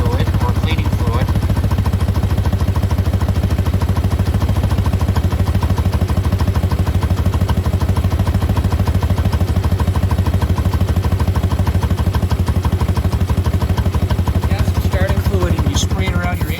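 A motorcycle engine idles loudly and continuously nearby with a steady rapid putter, roughly even throughout with no revving.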